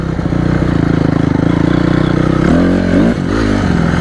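A stunt motorcycle engine idles loudly and close, then revs up briefly and drops back down.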